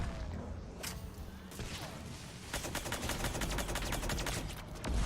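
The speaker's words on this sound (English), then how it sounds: "Armor-piercing ammo is really good on the suppressor, just so you can shoot through cover like that." A suppressor gun loaded with armor-piercing ammo in Mass Effect 3 multiplayer fires steady, rapid shots. The close, crackling bursts grow denser and louder in the second half, with dull impacts mixed in.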